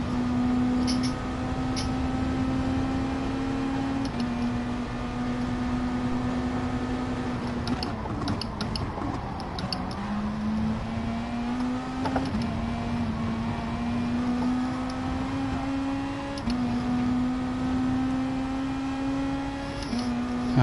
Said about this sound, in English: this Nissan will be away past us in no time in this straight